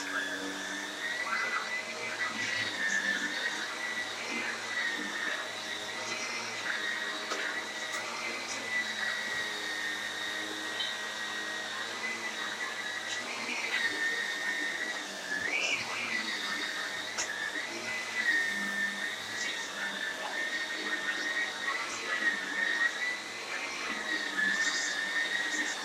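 A vacuum cleaner runs steadily in a home, a continuous whining drone that holds for about twenty-five seconds with slight shifts in pitch as it moves, while people talk intermittently under it.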